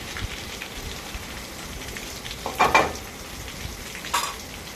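Onions fry in a pan with a spice paste for a fenugreek curry, making a rain-like steady sizzle with a couple of louder stirring scrapes midway and near the end, no voices.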